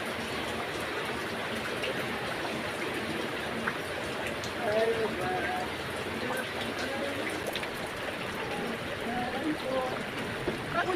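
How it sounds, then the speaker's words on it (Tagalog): Steady rain patters on a car while driving through a rainy day in the Philippines, a continuous dense wash of drops and road noise, with voices talking now and then over it. "Ulan na naman sa Pilipinas."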